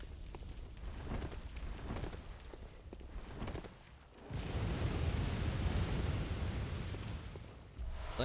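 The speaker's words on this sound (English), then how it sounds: "That explains what that explosion sound was earlier." A large explosion in the Bloodborne video game, a sudden deep rumbling burst that swells and sustains loudly after a stretch of dense, crackling game noise.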